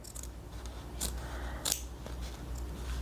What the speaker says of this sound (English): So I'm going to trim off some of this, but not enough that it causes fraying along this corner.